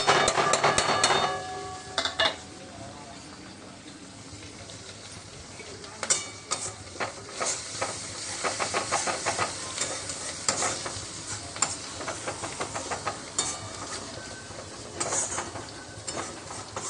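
Ground spices, including Kashmiri chilli powder, sizzle in hot oil in a frying pan for a katla fish curry, while a spoon scrapes and stirs in repeated, close, clattering strokes over a steady frying hiss.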